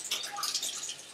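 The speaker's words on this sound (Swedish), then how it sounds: "Spola lite kallt vatten så förbereder vi." Cold water running from a kitchen tap, a soft, steady splashing stream with light dripping patter, close and moderately quiet, alone.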